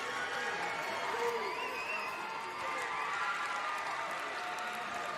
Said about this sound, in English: A lot of folks wearing Utah red, up and cheering.